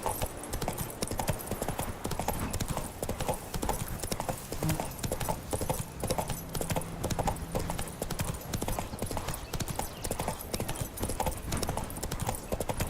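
Roach the horse moving briskly in The Witcher 3, a fast, continuous, loud clatter of hoofbeats in a galloping rhythm across the whole stretch, with game ambience and faint voices underneath.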